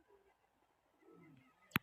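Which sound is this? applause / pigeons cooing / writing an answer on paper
pigeons cooing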